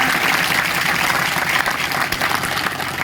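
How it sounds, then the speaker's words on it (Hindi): An audience at a political gathering claps loudly and steadily to welcome the school manager, forming a dense, continuous burst of applause with no pause across the few seconds. "जोरदार ताली बजा करके स्वागत"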